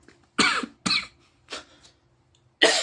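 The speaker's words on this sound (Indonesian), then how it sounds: "saking semangatnya sampai batuk-batuk ya" Several harsh coughs come in a close, loud burst, spaced by short silences, with a smaller throat-clearing sound partway through.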